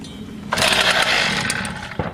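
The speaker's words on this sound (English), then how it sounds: "Next should be start to saw." A gas-powered saw with a decompression button and choke used in a military breach-and-clear setup roars to life after a pull, a loud raspy engine snarl running near and steady, then a second sharp burst at the end.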